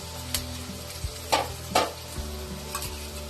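Onions frying in oil until browned for a Bengali mutton curry, a soft continuous sizzle with a few sharp scrapes and taps of a spatula against the pan, close and without talk.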